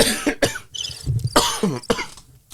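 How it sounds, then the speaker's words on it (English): A person coughs several times in short, harsh bursts, close by, with brief pauses between the fits. "I do apologise for my cough"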